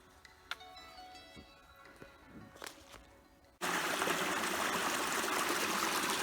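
A small trail water source trickles and flows along a hiking path among autumn woods, faint and near at first, then a louder, steady rush of running water fills the rest.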